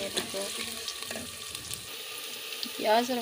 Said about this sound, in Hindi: प्याज को हम अच्छे से भून लेंगे 2 मिनट तक।